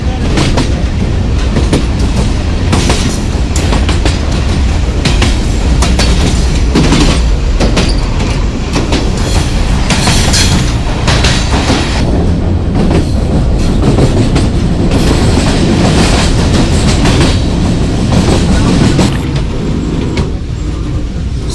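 Guard van of a Jand passenger train in Pakistan running on track at about 50 km/h, a loud steady rumble with rhythmic clickety-clack of wheels on rail joints throughout, close and continuous with no talking.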